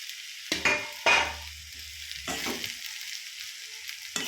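Cooked rice stirred into vegetables in a pan for veg fried rice: a few scraping, rustling stirs over a low sizzle, close and fairly quiet, with pauses between strokes.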